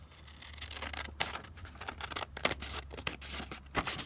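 Scissors cutting a pressed flower snippet roll for ephemera crafting, making several sharp, close snips spaced about a second apart over a low steady background hum.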